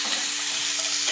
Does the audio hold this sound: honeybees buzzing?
no